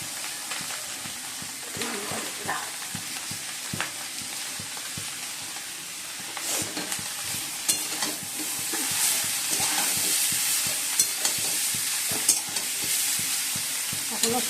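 Chowmein noodles stir-fry in a pan, with a continuous sizzle under repeated scraping and tossing strokes of a spatula. The sizzle grows louder and hissier toward the end, with a few sharp metallic clicks; close, with no voices.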